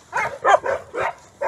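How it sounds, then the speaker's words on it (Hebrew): A small new dog barks close by in four quick yapping bursts with short gaps between them, loud and clear against a quiet background. "קלמן זה הכלב החדש"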